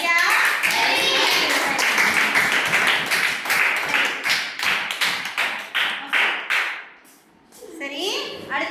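Repeated tapping or knocking strikes in a quick, uneven rhythm, fairly loud and close, continuing for several seconds before a brief pause and a few more taps, with no speech.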